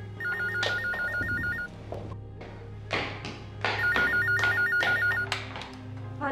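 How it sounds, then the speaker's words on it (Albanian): A telephone rings in two trilling bursts with a pause between, heard indoors in a dramatic film scene, while soft thumps and movement sound underneath. "Telefoni."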